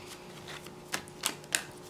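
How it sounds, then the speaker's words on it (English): Tarot cards riffled during a pick-a-card love reading, giving three short, crisp bursts of shuffling at close range over a faint background hiss. "Three more shuffles."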